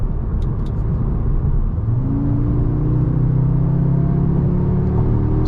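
A 2023 Audi S3 with 300 horsepower accelerates, its steady engine rumble rising in pitch partway through and then holding a strong, climbing drone, heard from inside the car.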